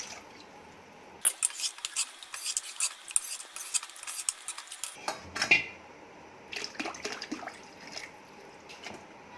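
Clinking and scraping of a spoon stirring water into yogurt in a bowl for kadhi, with bursts of utensil knocks and a brief pause midway.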